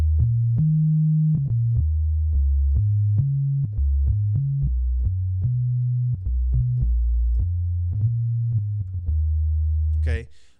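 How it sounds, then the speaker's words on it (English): Default sub bass patch from Logic's EXS24 sampler, playing a bassline of deep, pure sine-like notes in a steady rhythmic pattern, loud and alone, ending with a brief higher blip. "I named this the sub bass, but basically it's what you get whenever you click on the EXS24 sampler"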